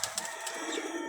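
A Firozpuri pigeon coos softly from a rooftop loft, with a few brief low calls close by and no voices.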